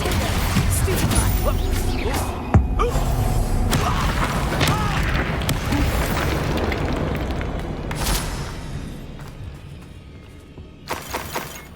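Spell combat in the video game Hogwarts Legacy as a Stupefy spell is cast, bringing loud booming blasts and shattering crashes that rumble densely for several seconds, then thin out into sharp bursts near the end.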